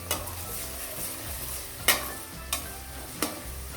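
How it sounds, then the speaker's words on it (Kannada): Vegetables stir-frying in oil over a low flame, with a soft, steady sizzle broken by a few distinct scrapes and clacks of a spatula against the pan. "ಒಂದು ಸಿಮ್ಮಲ್ಲಿ ಇಟ್ಕೊಂಡು ತರಕಾರಿಯನ್ನು ಎಣ್ಣೆಯಲ್ಲಿ ಫ್ರೈ ಮಾಡ್ಕೋಬೇಕು"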